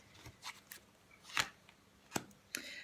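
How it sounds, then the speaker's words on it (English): Tarot cards being shuffled by hand make a few soft, quick riffling and slapping bursts, spaced irregularly and faint against a quiet room. "I'm going to just give the cards a shuffle"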